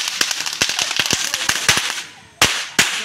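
Firecrackers bursting during Kali Puja celebrations, a rapid string of sharp cracks followed by a brief lull and two louder, nearer bangs.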